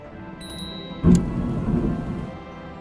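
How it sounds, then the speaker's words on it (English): A thunderstorm rumbles outdoors, with one sharp thunder crack near the one-second mark and then a lingering roll under steady rain, distant and moderately loud with no talking. "there is quite the thunderstorm happening, it seems"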